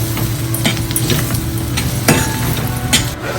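Crab masala sizzling in a pan as chili powder and Malvani masala go in, loud steady frying hiss with scattered clicks and scrapes of a stirring spoon, no talk.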